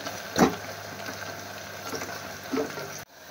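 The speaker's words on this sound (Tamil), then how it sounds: "இது கூடவே இந்த கட் பண்ணி வச்ச ஆனியன் ஆட் பண்ணிக்கலாம். ஆனியன் நல்லா வதக்கிக்குவோம்." Chopped onions sautéing in a pan for mushroom biryani, a steady soft sizzle with a couple of louder crackling bursts as they hit the oil and get stirred, close and alone.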